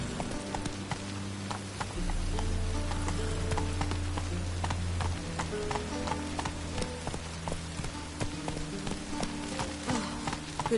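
A horse in The Witcher 3 trots with a steady clip-clop of hooves, the beats even and moderately close, set against a low continuous background of game ambience and music.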